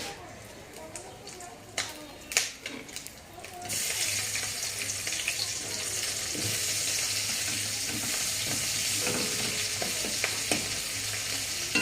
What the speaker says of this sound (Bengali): তো এর মধ্যে পেঁয়াজ লঙ্কাটা দিয়ে দেব